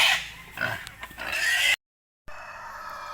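A pig squeals and grunts loudly and close up before slaughter, in shrill bursts that break off into a short silence and then resume.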